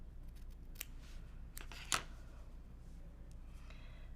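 Scissors cutting a small piece out of quilt fabric, a few quiet, close snips with one sharper crisp cut near the middle over a faint background hum.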